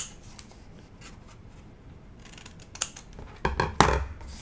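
Scissors snip a small mitre off the corner of a paper envelope lid, a few close, crisp clips and paper rustles building toward the end over a quiet background.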